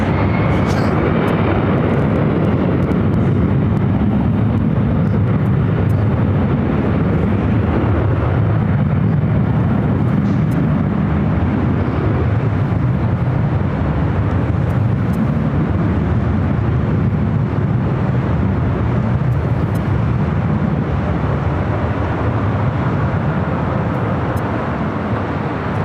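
A jet airliner takes off from LAX, a loud, continuous roaring rumble that swells and holds throughout, broad and powerful, with no talk over it.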